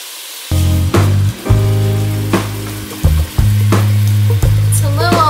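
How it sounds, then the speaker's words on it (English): Butter sizzling in a pan as flour goes in to start a cheese sauce, a loud close crackle broken by a few short pauses and scraping stirs. "I'm adding my flour to my butter, which is sizzling."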